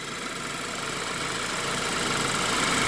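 A 2015 BMW 328i engine idles steadily on its own, a continuous low rumble with a faint rise in loudness toward the end.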